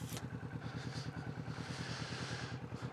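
Kawasaki Vulcan S 2025 cruiser motorcycle riding along at steady speed, its engine giving a close, continuous pulsing thrum with a regular low beat throughout.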